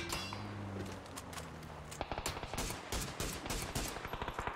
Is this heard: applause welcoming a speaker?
no